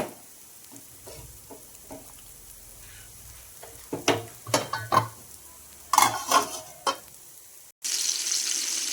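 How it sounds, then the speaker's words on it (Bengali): Bora fritters fry in a pan with a faint, low hiss, punctuated by a series of sharp clinks and scrapes of utensils, then a louder burst of sizzling right at the end. "বড়াগুলো ভাজা হয়ে গেল প্লেটে তুলে নিলাম"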